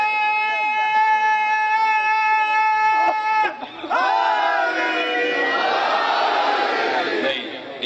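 A crowd at a majlis chants a slogan together, a loud sustained group shout that follows a single drawn-out voice leading the call and swells as many voices join in.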